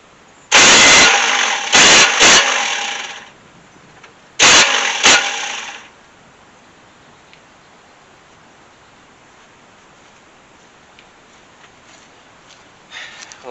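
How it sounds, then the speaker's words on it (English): A 1971 Chevy C10 engine cranks over with no fuel connected, giving several loud, close bursts of starter whirring and chugging in the first six seconds, each cutting off sharply, then near silence with faint background hiss. "I hooked the battery up just to see if she'll crank"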